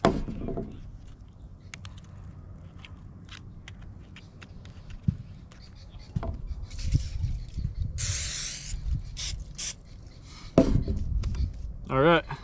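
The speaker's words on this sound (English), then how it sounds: "I'm just gonna spray these fillets down with a little bit of this canola oil" Canola oil is sprayed from a can onto Mayan cichlid fish fillets, a sharp hissing burst followed by a few shorter spritzes. Quiet kitchen clatter surrounds the spray and brief talk comes near the end.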